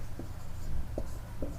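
Chalk scratching across a board while a lesson is written out, three short strokes spaced apart over a low steady background hum, no voices.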